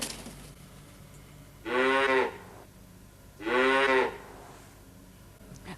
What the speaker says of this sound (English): What farmyard animal was that? A cow.